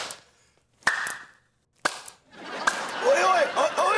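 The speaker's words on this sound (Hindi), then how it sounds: "ताली मार मार के मच्छर भगा रहा था" Three sharp, loud hand claps ring out at roughly one-second intervals to swat mosquitoes, each a crisp isolated smack, followed by rising voices and busy background sound.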